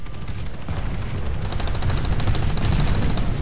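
Rapid bursts of gunfire in the online shooter Planetside 2, a dense continuous rattle of automatic weapons with layered shots throughout, loud and steady with no pause.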